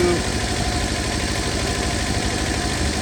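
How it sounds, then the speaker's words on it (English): A 1963 Volvo Amazon wagon's engine idles high, giving a steady, loud, close mechanical hum with a slight vibrating pulse that runs throughout. "idle's way high now"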